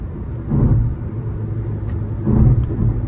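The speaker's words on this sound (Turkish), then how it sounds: "6. viteste 2900 devir civarında bir devirle şu anda ilerliyor" Steady low engine rumble from a Fiat Egea 1.4 cruising in sixth gear at about 2900 rpm, heard from inside the car, with broad road and tire drone and two slight swells in loudness.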